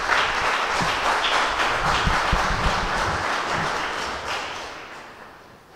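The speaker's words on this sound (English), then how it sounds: "an applause for Professor Stone" An audience at a lecture by Professor Peter Stone on protecting cultural heritage in conflict claps warmly, a dense burst of applause that gradually thins and fades out toward the end.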